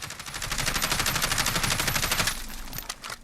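An HK433C rifle firing in Call of Duty Modern Warfare: a steady, loud automatic burst of evenly spaced shots for about two seconds, then a few scattered trailing sounds.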